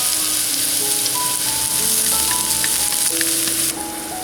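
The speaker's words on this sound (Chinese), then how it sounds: "洋葱炒出香味以后，加蒜进来" Onion and garlic sizzle steadily in a hot pan for curry puff filling, a dense close-up frying hiss that holds throughout and drops slightly near the end, with no talking.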